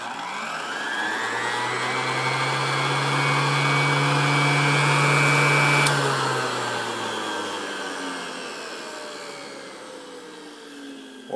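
Industrial wet/dry vacuum cleaner running at reduced voltage through a transformer, a loud steady motor drone with humming tones that rise, then slowly wind down as the pitch drops.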